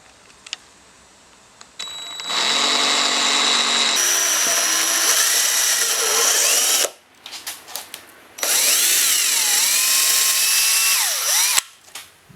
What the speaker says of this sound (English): I'll finish prepping the spoiler and then we'll start drilling our holes